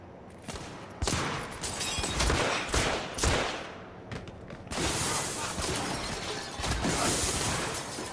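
Gunfire in the video game The Order 1886: loud bursts of rapid automatic shots and crashing impacts overlapping in a dense, continuous barrage.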